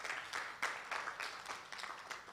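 Faint applause from an audience at a book launch, a soft patter of clapping hands rising and fading at a distance.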